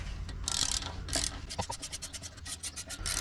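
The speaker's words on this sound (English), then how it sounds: "I bought these new for doing this job with a ratchet on that end" A ratchet spanner clicks in quick bursts with scraping metal as it turns out the last of four bolts on the air suspension of a Fiat Ducato / Relay / Boxer camper van, close and alone.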